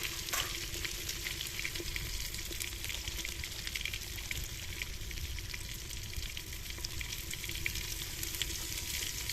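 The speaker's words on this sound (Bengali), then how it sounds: "তো বন্ধুরা তেল গরম হয়ে গেছে, তো এবার আমরা সয়াবিনটা ভেজে নেব হালকা" Soybean chunks frying in hot oil, a steady close sizzle with the soft scrape of stirring running throughout, no voices.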